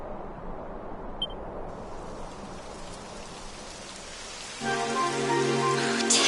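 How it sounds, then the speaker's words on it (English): Rain in the video game Dragon Quest 11: a steady soft hiss of falling rain, fairly quiet at first, then joined partway through by game music with sustained tones. "Typical. It would have to go and start raining, wouldn't it?"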